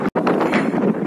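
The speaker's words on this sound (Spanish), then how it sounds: "Un viento terrible." Strong desert wind buffets a camera microphone outdoors, producing loud, rumbling gusty noise across the whole short stretch, broken by a brief cutout near the start.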